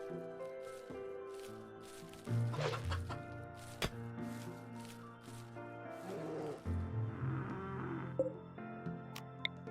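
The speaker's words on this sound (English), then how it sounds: "Velma leads Hen to the wooden pen marker" Hens clucking in the colony game RimWorld, repeated short clucks and calls over a steady drone of background game music, with a few sharp clicks.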